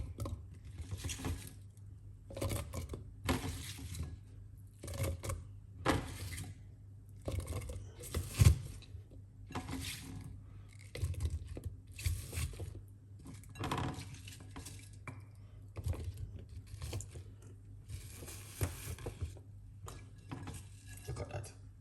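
Irregular clatters, knocks and thuds of cucumber, ginger and other detox drink ingredients dropped into a blender, with brief rustles and gaps between, close by and without talk.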